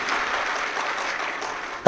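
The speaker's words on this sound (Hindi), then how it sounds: "ताली बजाकर साथ भी पाए।" An audience claps together at a Shiv Mahapuran religious discourse in Chhattisgarh, a dense, even patter of many hands for under two seconds that ends in a sudden loud burst.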